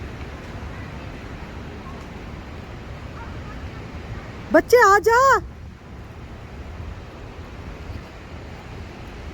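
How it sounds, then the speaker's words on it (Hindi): Steady rushing wind and blustery noise from a strong windstorm fill the background, with a short shout from a person partway through. "इतनी तेज़ हवा चलने लग गई है ना।"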